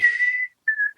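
A person tries to whistle, producing one sustained breathy note, a brief silence, then a second shorter note, close and fairly loud with no talking.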